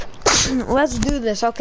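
A single sharp sneeze breaks in near the start, followed by close-up talk from a person at a microphone during an online game session.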